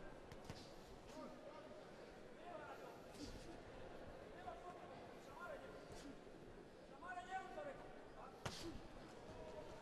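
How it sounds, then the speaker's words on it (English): Boxing gloves land punches in a heavyweight World Series Boxing bout, producing a few sharp, loud thuds spaced several seconds apart beneath continuous ringside commentary and crowd murmur. "Big shot, just such a huge noise when the gloves land."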